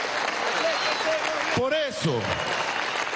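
An audience applauds continuously at a PSUV political assembly where a political leader meets primary candidates. The clapping is loud and steady, and someone speaks briefly over it.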